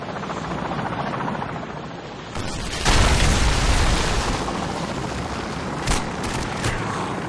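Missile strike in Modern Warfare 2 on the Highrise map: a low rumble is suddenly broken by a loud, heavy blast that roars for several seconds, with a smaller burst shortly after.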